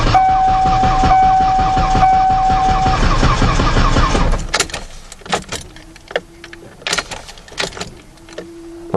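A 2018 Ford Ranger on a cold morning with the engine running, a steady loud broadband rumble and whine for about four seconds, then it cuts off, leaving scattered clicks, thumps and short tones from the cab.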